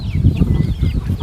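Village chickens from a free-range flock of roughly fifty birds cluck in a low, steady, rhythmic run of soft calls, close by and continuous, with no talk over them.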